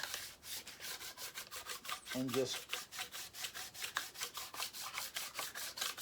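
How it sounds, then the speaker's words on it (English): Rhythmic back-and-forth strokes of 400-grit wet-dry sandpaper rasp close up on metal, a steady series of scratchy rubs, with a brief spoken word partway through. "next thing I'm going to hit it with the 400 wet dry"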